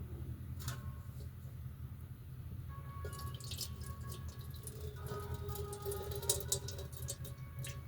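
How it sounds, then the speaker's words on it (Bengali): Rinse water from washed lentils is poured away, making a trickling, splashing patter over a steady background hum that is a little louder toward the end. "তো জলটা আমি এবার ফেলে দেব।"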